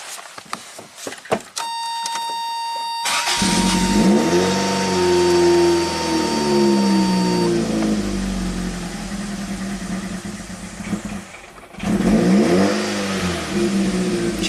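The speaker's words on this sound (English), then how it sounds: "let's see if the car starts and runs" Engine of a 1987 Toyota MR2 with its G signal unplugged cranks, catches and settles into a loud, steady idle with a warning chime at the start, then revs briefly near the end.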